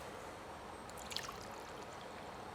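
A cup of water being poured into a container for a sourdough starter, a soft, faint trickle lasting about a second amid quiet room noise.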